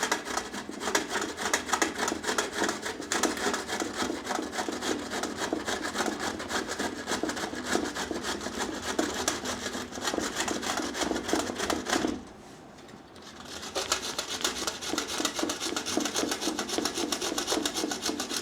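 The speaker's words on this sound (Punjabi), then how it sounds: "ਇਹਨੂੰ ਆਪਾਂ ਕੱਦੂਕਸ ਕਰ ਲਾਂਗੇ ਐਂ ਕਰਕੇ" Half a coconut rubbed against a hand grater in steady, continuous rasping strokes, close and fairly loud, with one brief pause partway through before the scraping resumes.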